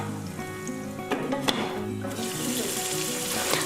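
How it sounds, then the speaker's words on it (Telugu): Eggs fry in oil in a kadai with a soft, steady sizzle, close by and fairly quiet, swelling slightly louder toward the end with a few light clinks. "ఈ పోపు వేగిన తర్వాత మనం 3 గుడ్లని పగలగొట్టుకొని ఈ నూనెలో వేసుకోవాలి."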